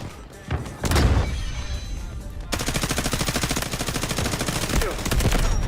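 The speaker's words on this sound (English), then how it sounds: "Launching grenade!" Grenade launcher fire in the Delta Force video game: a heavy thump followed by loud bursts of rapid gunfire in dense, close combat, with battle noise continuing throughout.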